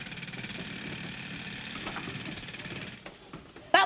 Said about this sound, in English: We can see there's an earth mover.